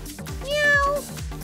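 A cat meows once in a drawn-out, rising and falling call, close and clear over soft background music.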